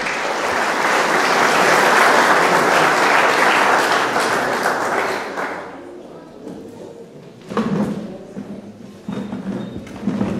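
Audience applauding loudly to welcome a bowed-string ensemble from a municipal house of culture at a tribute event, sustained clapping for about six seconds that fades, followed by scattered thumps and bumps of movement.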